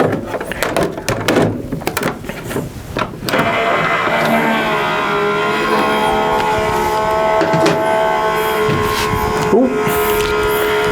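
A Sizzix embossing machine rolls paper through with a steady mechanical hum and whir, preceded by a few clattering knocks and handling noises.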